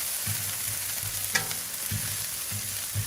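Egg, bacon and potatoes frying on a Blackstone griddle, a steady close sizzle with occasional spatula scrapes and stirring clatter, no voices.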